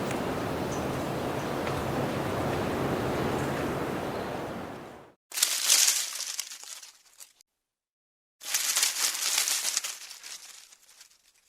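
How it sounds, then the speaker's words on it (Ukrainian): Dry leaves rustle and crackle in two bursts separated by a short silence, following a steady rushing wind-like noise. "Це шурхіт осіннього листя."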